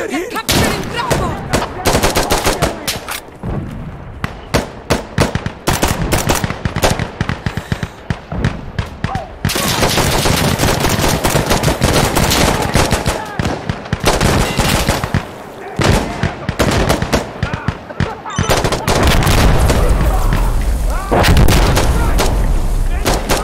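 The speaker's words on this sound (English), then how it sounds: "Explosive artillery incoming." Explosive artillery strike in Insurgency: Sandstorm: rapid, relentless gunfire and heavy booming blasts, loud and close, with dense bursts of shots and a deep rolling rumble near the end, chaotic combat noise throughout.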